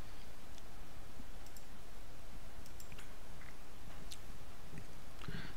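Sparse computer mouse clicks in a Windows Server 2019 setup, scattered sharp ticks heard faintly over a constant hiss with no voices.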